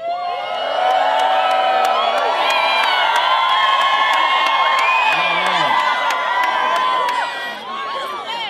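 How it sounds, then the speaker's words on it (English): A rally crowd of school students cheers and whoops loudly and steadily, with children shouting over a sustained roar that holds for several seconds before easing slightly at the end. "That was the best cheer I've ever heard"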